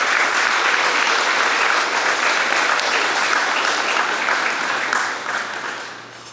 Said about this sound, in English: Let's give them a round of applause for those people.